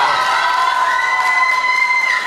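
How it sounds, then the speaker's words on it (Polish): An audience at a beauty pageant cheers and claps after a runner-up is announced. Crowd noise and shouts hold loud and close through the short burst, with a sustained tone running underneath. "Brawa."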